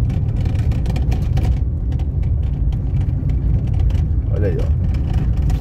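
A fuel tanker truck rolls past on a road beside a long-running construction site, a loud steady engine rumble close by, with someone talking over it.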